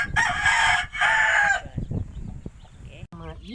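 Chickens on a farm in the Philippines, with a loud rooster crow up close followed by softer hen clucks and a short chirp.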